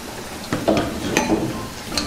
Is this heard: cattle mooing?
no